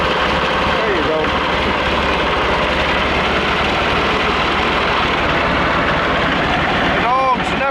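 A tractor engine idles on a farm while work gets underway on cutting silage, giving a constant loud, low mechanical drone with no changes in pace, and a voice is briefly heard over it.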